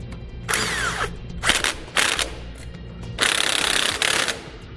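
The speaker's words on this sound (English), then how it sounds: "Then tighten them down using a 15 millimeter socket" Lug nuts on a Dexter trailer hub and drum assembly being tightened with a 15 millimeter socket, heard as several short bursts of mechanical ratcheting and power-tool whirring with brief pauses between, close and fairly loud.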